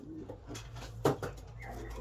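A racing pigeon in a South African breeding loft gives a low, soft coo, one brief throaty burst near the middle over a quiet, steady background hum.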